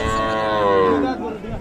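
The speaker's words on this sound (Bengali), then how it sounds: "দারুণ কিন্তু বাচ্চাটাও আসছে। ষাঁড় বাচ্চা" A single long, loud moo from cattle at a busy village cattle market with Sahiwal cows and a three-day-old bull calf, close by and clear over faint background voices.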